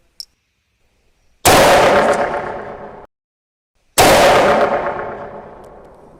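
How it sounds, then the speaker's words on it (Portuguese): Two loud, sharp precision rifle shots a few seconds apart, each with a long rolling echo that fades out, with silence between them. "Vamos fazer mais 2 disparos e ver como é que vai o grupo."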